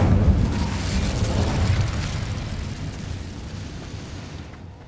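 A fiery Incendio spell cast in Hogwarts Legacy bursts out loud, a booming whoosh of flame that swells at once and then slowly dies away, with no voices over it.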